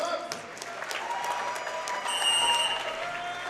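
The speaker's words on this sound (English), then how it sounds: "Let's clap it up. Let's clap it up." A crowd claps at a wrestling match between periods, with scattered distinct claps over a broad crowd murmur and faint voices beneath.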